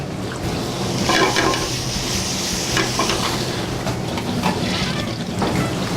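Shrimp and Louisiana crawfish fry in a hot pan for a Cajun pasta, giving a steady, close, loud sizzle that crackles and hisses without pause, with no voices over it.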